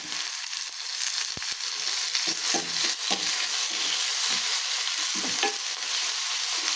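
Crushed garlic and green chili with curry leaves frying in a pan, a steady close sizzle with intermittent stirring scrapes and clatters throughout.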